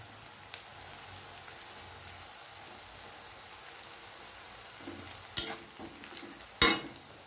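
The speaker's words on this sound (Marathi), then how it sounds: "कांदा चांगला परतू द्यायचा।" Onion sautés in a pan for a vegetable dish, a faint, low crackle broken by a few sharp scraping knocks of a spatula near the end.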